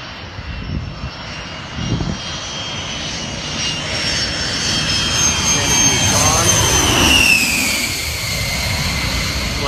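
An A-10 jet approaches to land belly up with no landing gear, its loud turbofan roar rising and sweeping in pitch as it passes close by, with excited voices talking over it.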